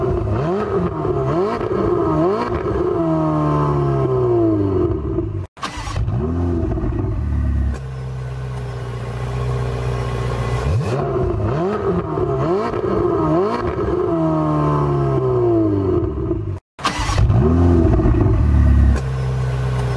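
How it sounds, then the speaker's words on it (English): A Ferrari 488 Spider's exhaust barks through repeated loud revs, each rising sharply and falling back, with brief cuts between bursts and steadier high-rpm stretches. Close and powerful, with no voices. "So exhaust clip number 2 was Rob Peretti's Ferrari 488 Spider."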